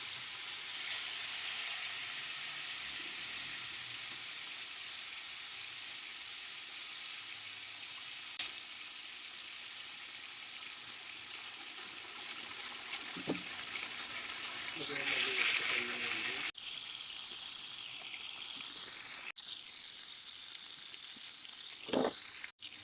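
Three tilapia sizzle and crackle steadily in oil in a non-stick pan, a continuous bright frying hiss that stays fairly even throughout, broken by a few clinks and scrapes of a utensil near the end.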